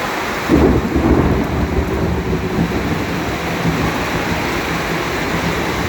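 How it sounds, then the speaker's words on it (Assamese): Heavy rain pours down steadily and loudly with no wind or hail, a dense continuous hiss with a low rumble underneath, swelling slightly near the start and with no voices. "কিন্তু বতাহ দিয়া নাই,"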